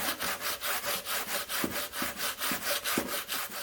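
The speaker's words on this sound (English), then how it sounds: "So just get this all sanded up here" Rhythmic back-and-forth sanding strokes over a Louisiana lap weld on a 1953 Chevy truck panel, about ten even passes with a steady scraping rasp and no talking.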